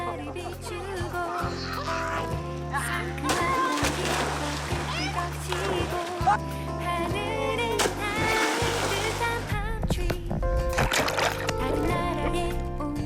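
Children splash and swim in the open sea, with bursts of splashing and water noise under lively kids' voices and a steady music backing.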